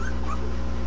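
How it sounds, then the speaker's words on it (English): Newborn puppies in a litter of eleven squeal in thin, high whimpers while the mother nurses them, close and steady over a low background hum. "Apparently the puppies are squealing."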